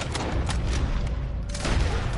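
A rapid volley of rifle and gun shots in Red Dead Redemption 2, several booming cracks in quick succession over a dense rumbling background, loud and close.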